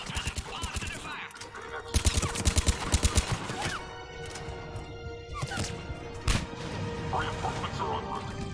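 Gunfire and impacts ring out during an enemy attack in the Mass Effect 3 video game. Bursts of rapid shots and thuds sit under radio voices and steady combat noise.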